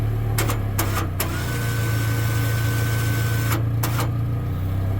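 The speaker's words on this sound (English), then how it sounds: "gotta engage my winch" A winch on a car lift or trailer setup for a 1962 Ford Thunderbird transmission swap engages and runs with a steady low motor hum and whine, punctuated by a few sharp clicks, no talking.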